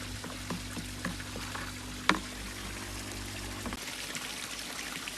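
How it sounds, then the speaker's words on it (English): Salt pours into a garden pond in a soft, steady granular trickle, faint and close, with a brief sharper splash midway and a low background hum that drops off near the end. "I'm going to add some salt in and get this in there."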